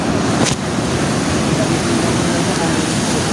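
Sea waves wash steadily from a fishing boat out on the open water, a continuous broadband roar mixed with wind noise across the whole span, with no clear individual breaks.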